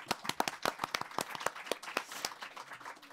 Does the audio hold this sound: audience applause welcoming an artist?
yes